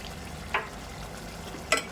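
Mutton bhuna frying in a pan, a faint low sizzle with two brief stirring scrapes, quiet and close.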